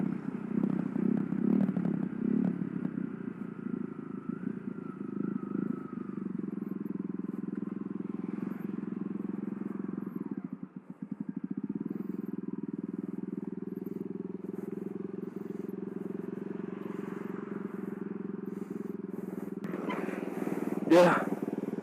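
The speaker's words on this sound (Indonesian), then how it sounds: "ini dia motornya. Tuh kan, knalpotnya tuh R9, R9." A Kawasaki D'Tracker 150 motorcycle with an R9 aftermarket exhaust idles steadily nearby, a low, even drone that briefly dips in the middle and ends with a sharp clack.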